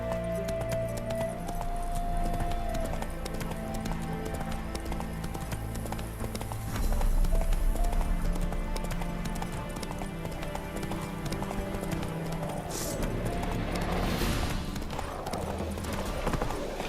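The horse Roach gallops in The Witcher 3 game, steady clip-clop hoofbeats running continuously at an even rhythm over game music and ambience.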